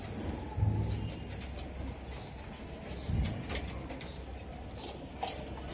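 A racing pigeon held in the hand gives two low, soft coos a few seconds apart, close by, over a quiet background of handling noise.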